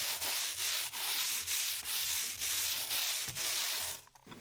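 A sheet of 150 grit sandpaper is scrubbed back and forth on a concrete pad outdoors, a loud, close rasping sound repeating in steady strokes about twice a second, with a brief pause near the end.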